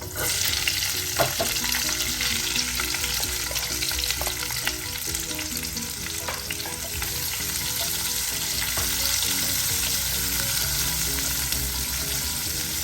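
Onions added to golden garlic in a pan for a greens dish, a continuous close sizzle with occasional stirring clicks and scrapes, steady and moderately loud with no talking.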